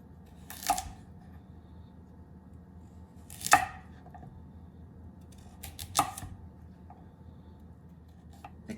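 A knife chopping carrots on a cutting board lands a few sharp, separate strikes at uneven intervals, close by, in a quiet room with no voices.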